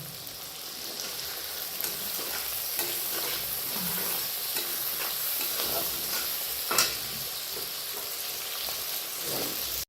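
Chillies frying in a pan for chilli chicken, a steady close sizzle with stirring scrapes and clinks running throughout, no voices.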